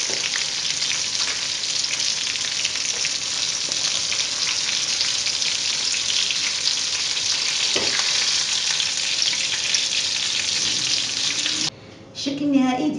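Sardines frying in oil give a loud, even crackling sizzle up close for most of the stretch, then a brief drop and a short clatter of handling near the end.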